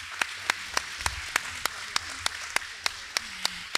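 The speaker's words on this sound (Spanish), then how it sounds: "a la profe Marisabel, para quien pido un fuerte aplauso." At the closing panel of an academic event in Havana, one person claps slowly and steadily, about a dozen sharp separate claps at an even pace over quiet room noise and faint voices.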